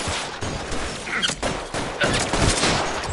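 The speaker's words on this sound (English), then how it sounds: "I'm shooting from somewhere, but where are they shooting from?" Dense, sustained gunfire from a firefight in L.A. Noire on PS4, with overlapping shots and bursts roaring continuously for the whole stretch and no talk over it.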